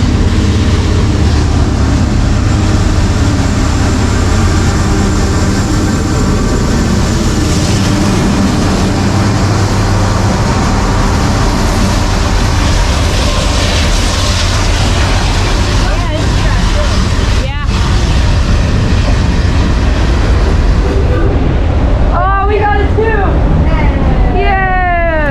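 A freight train led by NS and CP 4140 locomotives rumbles past with a loud, continuous roar and grinding wheel noise, ending in squealing, screeching metal, while people talk nearby.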